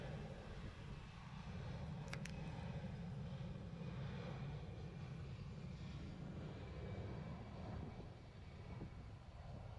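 A fixed-wing airplane takes off from the runway at Nagasaki airport, a distant, faint engine roar that holds steady and slowly fades, heard alone.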